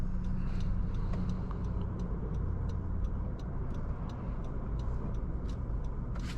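Steady engine and road rumble from a 2019 Honda Civic Sport under acceleration, heard from inside the cabin with a continuous low drone and faint clicks; no talking.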